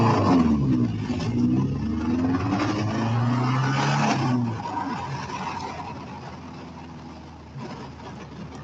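A car drives south on Broadway late at night through a Denver protest area, its engine humming steadily and loud throughout, with a low rumble that eases off partway, and a voice speaking briefly over it.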